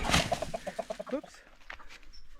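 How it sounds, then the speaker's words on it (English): A rooster in a garden clucks in a quick run of evenly spaced calls close by, followed by a few scattered softer clucks and rustling. "I'm gonna throw these out here so the rooster will go and be interested in that"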